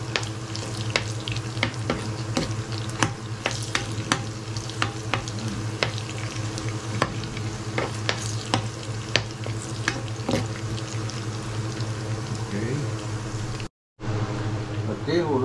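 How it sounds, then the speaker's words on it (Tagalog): Garlic fries in a pan with a steady crackling sizzle and frequent sharp clicks of a utensil stirring. The sound cuts out briefly near the end, then resumes. "Yan natin munang maluto ang bawang para mapango."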